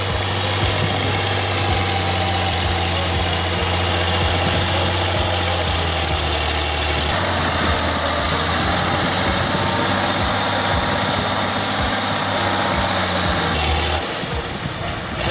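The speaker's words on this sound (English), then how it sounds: "Despite the DX140's powerful and durable 6-cylinder turbo engine, flexible transmission, and strong hydraulic system, it still struggles a bit when hauling a heavy load through this muddy terrain" A Deutz DX140 tractor's six-cylinder turbo diesel drones loudly and steadily while straining to haul a heavy load through deep mud, a constant low rumble with a brief shift partway and a slight drop near the end.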